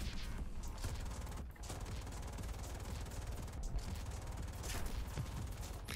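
Rapid bursts of gunfire in War Thunder crackle over a dense, noisy battle din, with a few sharper shots standing out, fairly quiet overall.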